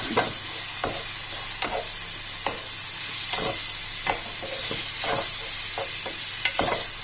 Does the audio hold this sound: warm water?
no